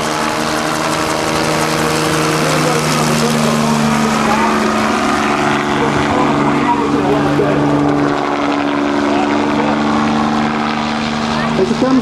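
A Bell 47 helicopter lifts straight up during a Rotorfest 2008 demonstration, its engine and rotor making a loud, close, continuous droning throb with a steady pitch throughout.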